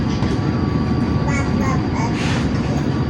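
A Commuterline train on the Sindro service, made up of an emergency trainset, pulls away with a heavy low rumble and an electric motor whine held steady beneath it. Faint voices and a brief higher tone sit on top around the middle.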